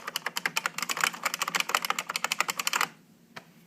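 Brisk typing on a Unicomp Classic 104 USB Model M buckling-spring keyboard, a rapid close run of crisp clacky keystrokes that stops suddenly, followed by one last isolated press.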